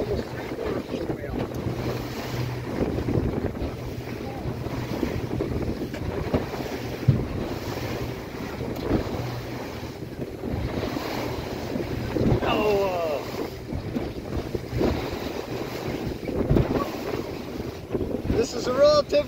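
Wind over the North Atlantic off Newfoundland on an iceberg tour boat: a steady, moderately loud rush and roar with waves washing around the hull, and faint voices now and then underneath.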